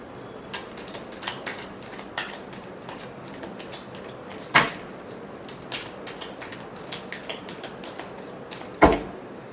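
Tarot cards are shuffled by hand in quick repeated riffles and soft slaps, with two sharper snaps standing out among the steady papery flicking.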